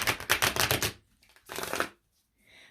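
Tarot cards riffle quickly in a close, crisp flurry, then a second shorter shuffle follows after a brief pause, with a faint tap at the end.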